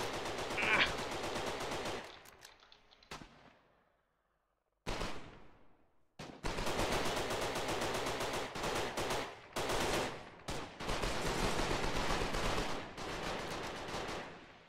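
Machine gun fire in the war game Foxhole rattles in long rapid bursts, loud and close, broken by short gaps and a near-silent pause before the firing resumes in sustained strings of shots.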